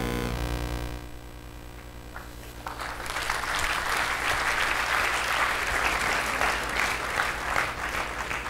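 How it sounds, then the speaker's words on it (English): An audience at a banking executive's talk bursts into sustained applause, with loud, dense clapping swelling at about three seconds and continuing steadily to the end. "other than the claps or the applause"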